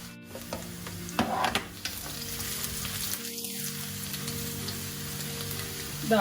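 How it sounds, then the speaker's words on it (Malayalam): Six or seven garlic cloves fry in hot sunflower oil, giving a steady close sizzle broken by a few scraping stirs of the spoon in the pan, with no talking. "വെളുത്തുള്ളി ഒന്ന് ഇളക്കി കൊടുത്തു."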